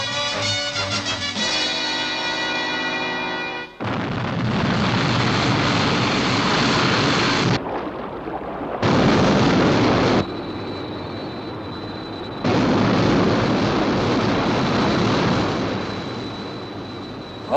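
The aircraft Sky 1 lifts off with a loud, steady jet roar that cuts in and out in long sustained bursts after a brief tonal whine, with no voices over it.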